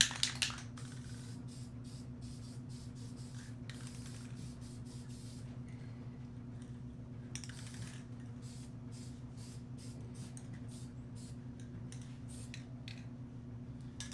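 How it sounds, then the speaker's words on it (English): Short hissing bursts of hammered-finish aerosol spray paint come in quick irregular pulses over a steady low hum, fairly close and moderately loud. "These hammered paints, they don't spray like this."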